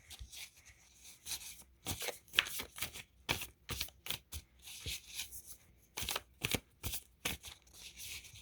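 Oracle cards shuffled by hand during a shadow work reading, a quiet, close series of irregular riffling and slapping bursts with brief pauses and no talking.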